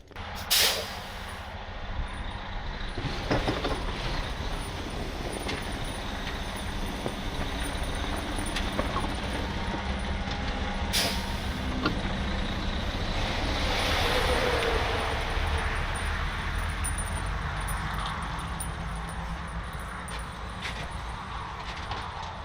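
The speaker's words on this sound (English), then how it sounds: "I moved the truck up, kind of in line with the trailer" A semi truck being moved, its engine rumbling low and steady throughout, with sharp air brake hisses bursting out early and again midway.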